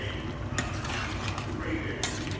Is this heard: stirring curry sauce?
yes